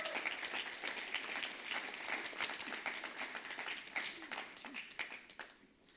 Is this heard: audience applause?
yes